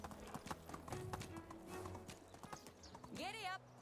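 Horse hooves clip-clop in the video game Medieval Dynasty, a brisk rhythmic run of close strikes that ends with a loud whinny, while someone talks over it.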